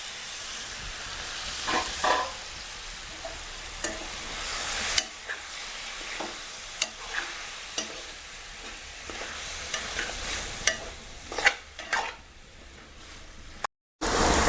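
Broad bean and tomato curry stirred in a pan, with intermittent scraping clinks of the spoon over a continuous soft sizzle of cooking, close and moderately loud, and no voices.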